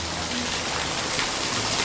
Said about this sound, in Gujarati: જો વરસાદની જોરદાર એન્ટ્રી થઈ છે